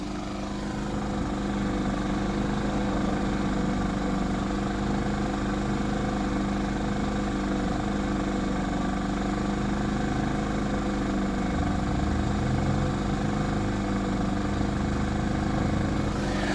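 An RV inverter generator running in economy mode, a steady, even engine hum with a constant low drone that holds for the whole stretch, close by and without speech.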